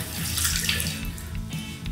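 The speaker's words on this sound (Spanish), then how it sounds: "Primero vamos a abrir el caño. Lo vamos a mojar bastante, con bastante agua las manos" A tap runs steadily while hands are wetted under a generous flow of water, a continuous close splashing hiss into a sink with no voices.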